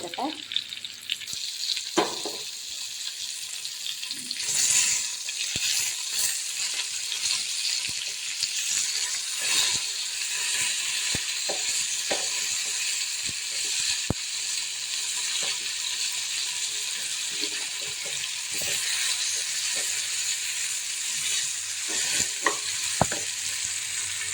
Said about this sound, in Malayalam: അപ്പോൾ നമ്മുടെ മീനെല്ലാം നന്നായിട്ട് മൂത്ത്